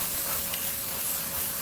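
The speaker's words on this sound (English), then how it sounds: "Don't even waste any spray really spraying the back. You really just want to get the edges." An aerosol spray can hisses steadily as paint mists along the edges of a mirrored cardboard coffee table, a continuous close airy spray with no pauses and no talking.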